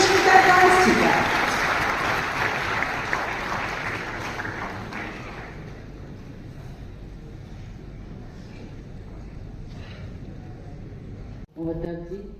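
Audience applause welcoming a guest to the stage at a ceremony marking Utkal Kesari Dr. Harekrushna Mahtab's 125th birth anniversary; loud clapping at first that fades into a long quieter tail, with a voice briefly starting near the end.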